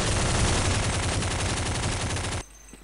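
A Kriss SV submachine gun in a Counter-Strike mod fires a rapid, loud sustained burst of automatic gunfire for over two seconds, then cuts off abruptly into near silence.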